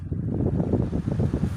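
A Britânia electric fan fitted with a new plastic blade runs close by, giving a steady, whooshing rush of air with a low, faintly pulsing hum and no talking.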